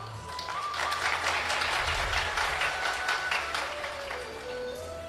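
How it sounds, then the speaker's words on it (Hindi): A crowd at a religious discourse applauds, a dense continuous clapping at moderate volume that swells and then slowly fades, with a faint tone in the background. "अब ताली तो बजा रहे हो"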